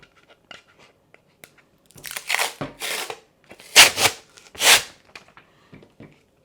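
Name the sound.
cutting apart transparent glitter adhesive vinyl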